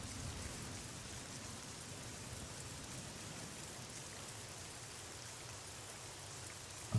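Steady pouring rain hisses evenly throughout a scene in Fallout: New Vegas, a soft constant wash of drops on surfaces, faint and unbroken.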